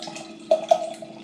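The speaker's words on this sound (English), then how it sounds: "I'm getting a little more aggressive with the pour on this one" Spicy Bohemian pilsner brewed with jalapeños poured aggressively into a glass, a short close splashing gush with a couple of brief glugs, no talk.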